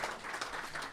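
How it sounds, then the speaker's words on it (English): An audience at a day care centre gives Tony a round of applause. A short, dense burst of clapping is heard close by, with no speech over it. "big round of applause to you"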